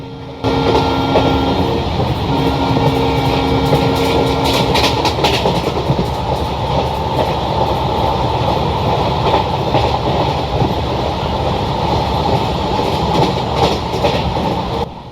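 A train runs on rails in the Railworks simulator, a continuous loud rumble with rhythmic clickety-clack and faint wheel squeal, steady throughout.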